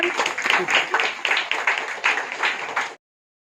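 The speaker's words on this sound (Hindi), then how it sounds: "तालियां बजा दीजिए।" An audience at a school parent-teacher gathering for the 75th Independence Day celebration claps in a steady, fairly loud round of applause that stops abruptly after about three seconds, with voices faintly mixed in.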